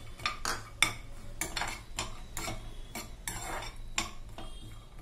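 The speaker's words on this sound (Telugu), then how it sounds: "కాజు కిస్మిస్ ని త్వరగా వేయించుకోవాలి" Cashews and raisins are tossed in hot fat in a pan for a festival sweet, giving a run of quick metallic scrapes and clatters from a spoon against the pan, close and fairly quiet with no talking.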